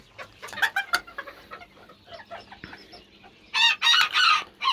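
Chickens and a rooster cluck and squawk close by, bursts of calls scattered through the clip with a louder cackling run near the end.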